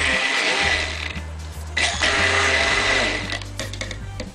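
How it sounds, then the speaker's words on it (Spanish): A hand blender whirs loudly and continuously, its motor pitch shifting as it mixes, with occasional clatter against the container. "le voy a dar un poquito con la batidora"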